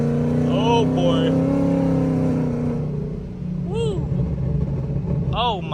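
A Ford Mustang fitted with a supercharger speeds up on the road with a loud, sustained engine drone and rising revs, heard from inside the car along with excited voices.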